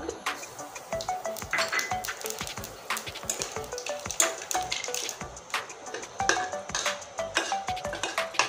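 A bay leaf, dried chili and nigella seeds tempering in hot oil make close, irregular crackles, pops and spits, with a few utensil clinks against the pan.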